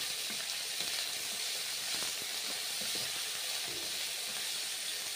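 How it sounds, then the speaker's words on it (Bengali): Pointed gourd (potol) frying in a pan with oil, a steady close sizzling hiss throughout with small crackles, no voices. "নেড়ে চেড়ে পটলগুলোকে ফ্রাই করে নিতে হবে।"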